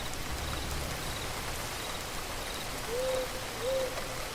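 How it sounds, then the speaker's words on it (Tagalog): Heavy night rain falls as a steady, even hiss throughout, with two brief hooting owl-like calls rising near the end. "Malakas pa rin ang ulan."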